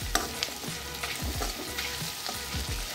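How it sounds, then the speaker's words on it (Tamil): Onions and dried red chillies sizzle steadily in a hot pan of oil, with repeated scraping stirs and clinks of a spoon against the pan, close and continuous. "வெங்காயம் நல்லா வதங்கட்டும்."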